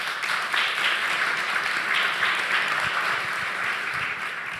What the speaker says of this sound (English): Please give one more round of applause to our panel.